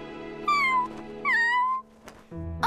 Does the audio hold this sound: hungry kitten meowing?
yes